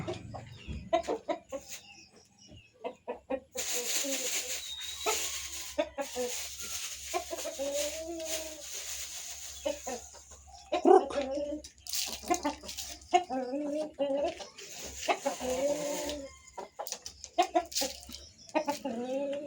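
Chickens clucking around a backyard, several hens calling in short broken bursts at close range, with some talk mixed in and a steady hum underneath.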